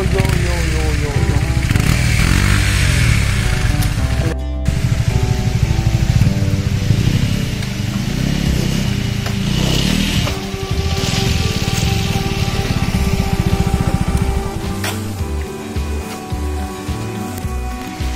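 KTM Duke 125 motorcycle ridden off road on the way to Amargarh Waterfall, its engine droning loud and steady throughout with wind rumble, a brief sharp break partway through and the engine note shifting near the end.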